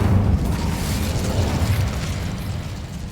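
A loud, sustained fiery blast from the Incendio spell in Hogwarts Legacy, cast in a cavern: a deep, rumbling whoosh that holds steady for about three seconds and then slowly tails off, with no voices over it.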